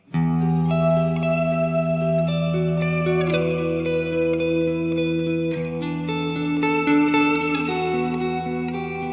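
A sustained, heavily reverberant choir-like synth pad with layered tones and a long, washy tail, no talking.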